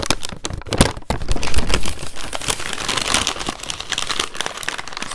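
Loud, close crinkling and rustling of a stiff chevron-patterned wax paper bag being handled, with irregular crackles and crunches.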